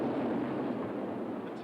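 A tank fires on a block of flats where two men are trapped, heard as a dull, heavy, sustained boom rumbling low throughout with little sharp attack.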